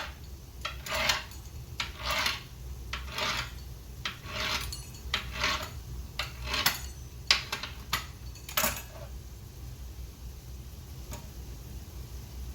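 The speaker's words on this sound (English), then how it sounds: "But the pizza slicer is definitely the way to go to get this sliced." A pizza slicer rolls through several stacked wraps: a run of short, scratchy cutting strokes with quick ticking rasps in an uneven rhythm, close and fairly quiet, thinning out toward the end.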